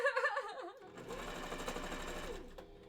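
A sewing machine stitches a fursuit bandanna, its steady mechanical whir running close and continuous for about two seconds after a brief opening hum.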